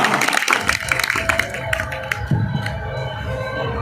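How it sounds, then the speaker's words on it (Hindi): An audience at a large Hindi poetry gathering in Udaipurwati claps loudly, a dense patter of hands that is busiest in the first two seconds, then thins under a steady murmur and some voices. "एक बार दोनों हाथ ऊपर उठाकर जोरदार तालियां दीजिएगा।"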